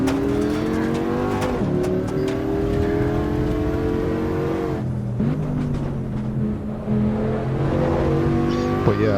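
A car's engine revs loudly in the Assetto Corsa Evo racing game, climbing through the gears with several sharp shifts and drops in pitch before building again, up close and continuous with no talking.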